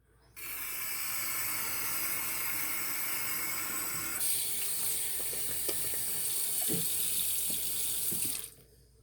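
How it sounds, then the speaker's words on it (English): Steady stream of water running from a tap and splashing onto a shaving brush, continuous and close for several seconds, with faint clicks underneath. "I'm going to add a little bit more water to the brush."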